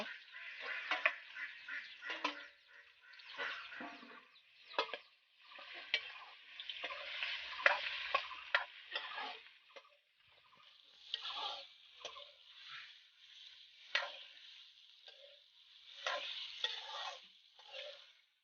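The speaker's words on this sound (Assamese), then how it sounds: "এতিয়া মাংস ঢালি দিছোঁ হাঁহ মাংস" Duck meat fried with turmeric, onion and chilli crackles and sizzles in a pan, broken by repeated scraping stirs and clinks of the spatula, fairly faint and close, with no talking.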